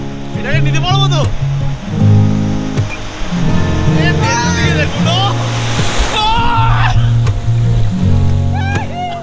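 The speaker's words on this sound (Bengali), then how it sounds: "ওরে ভাই, বিশাল ঢেউ, বিশাল ঢেউ।" Large ocean waves break and surge on Bagda beach, a steady rushing roar of surf running beneath close, excited voices that talk throughout.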